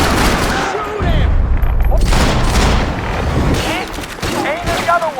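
Dense rapid gunfire and booming shots from the video game Max Payne 3, a loud continuous fusillade with bursts layered over one another, mixed with shouting voices.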